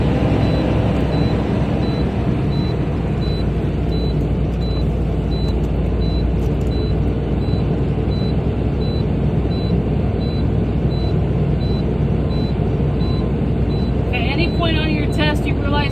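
Truck engine held at raised throttle to build air brake pressure toward the governor cutout during an air brakes test, a loud steady diesel drone with a faint hiss near the end, no talk.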